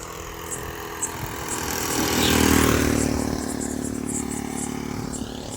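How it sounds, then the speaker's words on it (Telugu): A motorbike approaches along a road beside farmland, its engine swelling to a peak near mid-clip and then trailing off as it passes, with a steady background hum and no talking. "ఒక బైక్ వస్తుంది, వెళ్ళనివ్వండి"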